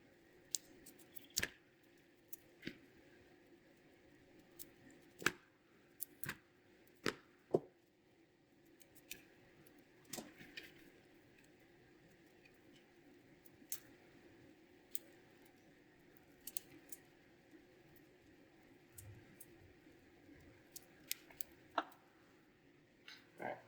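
Broccoli being cut into small pieces on a board, heard as faint, scattered sharp snips and clicks spread irregularly over a quiet background with no talking.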